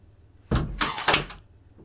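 A kitchen-side door in a darkroom is pushed shut, a close, loud sequence of knocks and a rubbing slide lasting about a second, then quiet.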